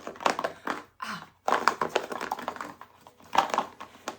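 A light subscription box of art supplies is shaken near the listener, its loose contents rattling and knocking in quick irregular bursts separated by brief pauses.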